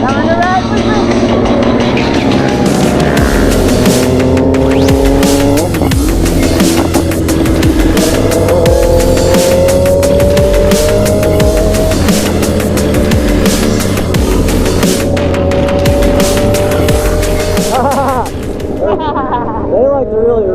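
Several Honda Grom motorcycles ride alongside a BMW S1000RR, their engines droning and revving loudly and steadily throughout with shifting pitch and heavy wind buffeting, while people talk over the noise.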